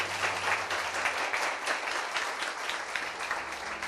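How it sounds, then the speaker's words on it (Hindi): A church congregation clapping loudly together in a hall, a steady dense burst of applause lasting the whole moment with no talking. "आइए उसके लिए ताली बजाएंगे हम जोर से।"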